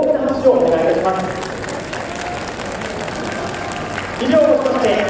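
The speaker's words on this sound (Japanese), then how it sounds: "ファンの皆様に今一度大きな拍手をお願いいたします" Crowd applause at a horse-racing award ceremony for the 62nd Diolite Kinen, steady clapping through the clip with a loud voice talking over it near the start and end.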